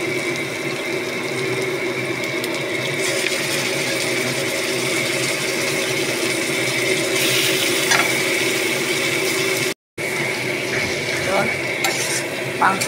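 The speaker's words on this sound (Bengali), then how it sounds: "মাংসটা ভালোভাবে এবার কষাবো।" Marinated mutton is stir-fried with browned onions for Bengali-style mutton kosha, a loud steady sizzle with repeated scraping stirs and a brief dropout near the end.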